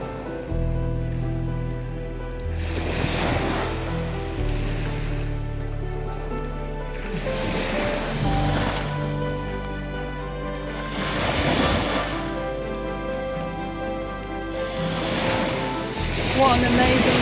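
Waves breaking on Min Beach in Shetland in the rain, several slow surges rolling in one after another, loud and close, with wind rumbling on the microphone.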